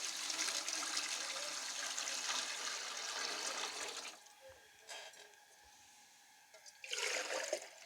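Water pours steadily into a pot of kabuli pulao where ghee has risen to the top, a loud, continuous rush for about four seconds, then quieter trickling, then a second strong splash near the end.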